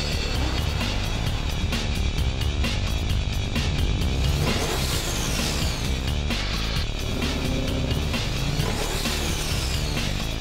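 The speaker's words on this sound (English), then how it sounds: "you can tell how well a car's been restored, is this noise" Engine of a restored classic car running and revving, a loud continuous mechanical roar with rising and falling pitch throughout.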